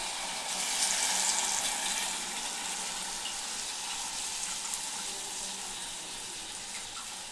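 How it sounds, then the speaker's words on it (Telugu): Steady rush of tamarind water being poured into a pan, a continuous watery splashing at moderate level with no talking. "ఇప్పుడు చింతపండు పులుసు రసం ఇలా పోసుకుందాం"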